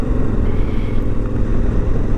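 A 2017 Honda Africa Twin motorcycle pulling away in gear, its engine a loud, steady, close drone with a low rumble that holds throughout the short stretch.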